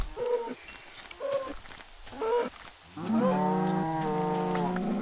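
Cows in the video game Minecraft give several short low calls followed by one long drawn-out moo, fairly quiet and alone.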